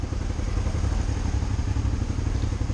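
A motorcycle ridden through Paris traffic gives a close, steady engine rumble with rattling mid-range clatter and wind noise, continuing without a break and without speech.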